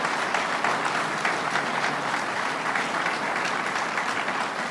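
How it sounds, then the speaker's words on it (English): A crowd applauds at a construction announcement event, with continuous broad clapping from many hands that holds steady throughout. "let's give everybody a big round of applause"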